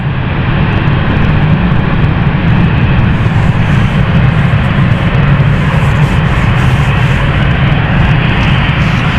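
Airliner jet engines roar loud and close at London City Airport, a dense continuous rumble with steady intensity throughout and no voices over it.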